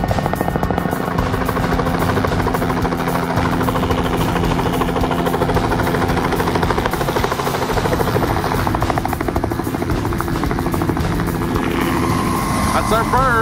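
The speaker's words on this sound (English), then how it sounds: "the helicopter arrived, loaded with happy hunters coming back from some camp" Loud, continuous helicopter rotor thumping and engine whine fill the whole stretch, close by and unbroken, as a helicopter arrives at a remote moose hunting camp.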